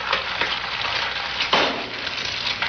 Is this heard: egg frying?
yes